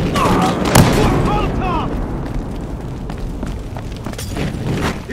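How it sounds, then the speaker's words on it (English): Incendiary grenade igniting in Battlefield Hardline multiplayer, a loud burst and roaring rush of fire mixed with scattered gunfire and chaotic battle noise, with voices shouting underneath. "Throwing incendiary!"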